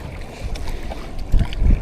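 Waves slap and wind buffets a small fishing boat out on choppy sea water, two heavier splashing surges near the end standing out over steady low rumbling wind noise.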